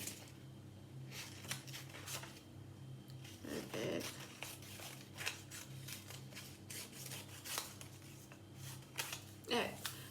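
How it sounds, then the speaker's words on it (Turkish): Scissors snip through paper animal cards in a classroom activity, giving quiet, repeated cutting and rustling sounds at an irregular pace, with faint speech nearby. "Hemen kesiyorum."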